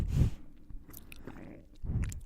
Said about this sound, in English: I'm just chewing, bro.